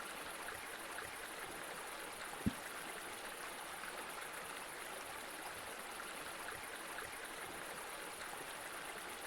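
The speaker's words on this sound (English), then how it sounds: "the fact that there's like water running below the tree is really weird" Steady trickling stream of water running beneath a tree in the video game Eastshade, a soft continuous flow at low level with a brief faint knock partway through.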